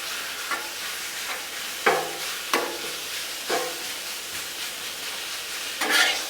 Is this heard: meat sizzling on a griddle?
yes